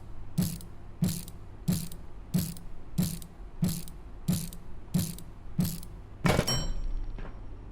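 In a Half-Life style survival video game, a screwdriver builds a heater with a steady series of nine evenly spaced ratcheting clicks, then a longer mechanical clatter as assembly finishes.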